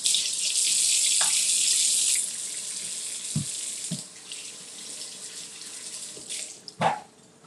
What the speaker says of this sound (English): I probably should just stop being lazy and rinse this